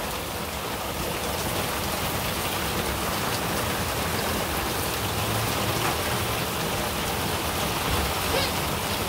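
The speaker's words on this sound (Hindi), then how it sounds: "बारिश में खेलना है" Steady rain falls and patters on surfaces in a dense, even hiss that continues unbroken, close and fairly loud, with no talking heard over it.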